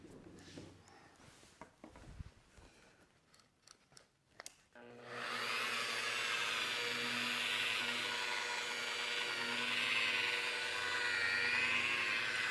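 A Barjack professional rotary polisher spins up after a few seconds of quiet handling noises, then holds a loud, steady whirring drone with a constant hum for the rest of the clip, alone without talk.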